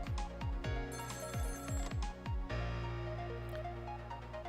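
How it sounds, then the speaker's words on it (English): Telephone bell ringing in the video game Ghost Trick, a loud repeated electronic ring in rapid bursts over steady game music, then the ringing stops and the music carries on alone. "now I get to hear and use that phone"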